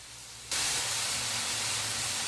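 Soy sauce hits food cooking over a wood fire, setting off a sudden loud sizzling hiss after a brief quiet moment, then a steady, dense sizzle that carries on without any talk.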